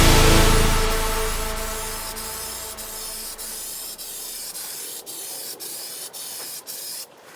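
A spray can lays a clear coat on a custom car skid plate for a GTO, beginning with a loud close hiss that fades over several seconds, followed by faint intermittent ticks.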